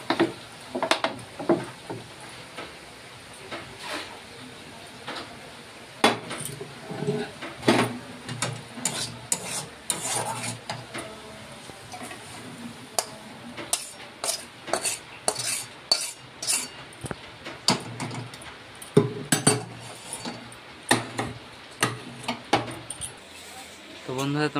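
Fried potatoes being lifted out of a pan, with irregular scraping, clinking and rattling of a utensil against the pan, close and busy, while a person talks at times.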